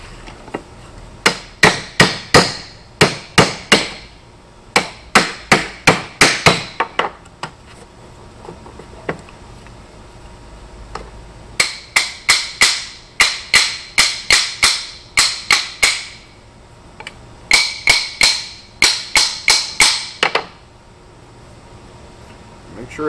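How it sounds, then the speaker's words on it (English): Organ pipe foot metal is hammered around a steel mandrel in quick clusters of sharp metallic taps, bursts of several strikes separated by short pauses, close and clear. "So I'll use this steel mandrel to roll the foot."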